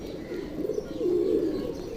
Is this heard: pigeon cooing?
yes